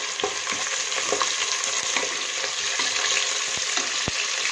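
Onions frying in hot oil in a pan for vegetable biryani, a steady close sizzle with a few stirring scrapes and clicks throughout, no voices.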